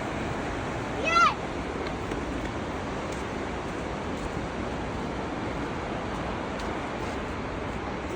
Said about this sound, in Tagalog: Rinig na nga namin ang malakas na bagsak ng tubig, ganun din ang tilamsik nito.